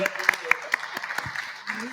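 Sparse, distinct claps from a small audience at the HERITECH 2021 white paper presentation, applauding a speaker named Pascal. The claps are spaced out, with a quieter stretch near the end.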